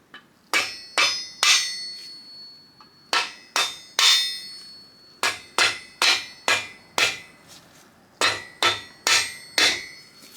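A mallet taps an engine part on a 500+ HP turbo Miata engine build, sharp ringing strikes in quick clusters of two to four, close and clear with short pauses between groups.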